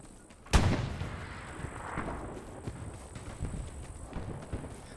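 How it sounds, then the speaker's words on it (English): A sharp, close gunshot cracks out once in an online war video game, followed by scattered fainter shots and thuds in the distance. "Is he shooting at you?"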